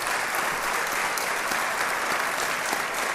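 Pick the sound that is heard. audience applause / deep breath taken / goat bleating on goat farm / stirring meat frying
audience applause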